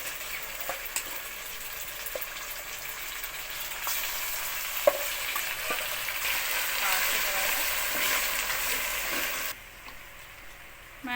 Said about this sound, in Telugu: తర్వాత మనం మ్యారినేట్ చేసుకుని పెట్టుకున్న చికెన్ వేద్దాం.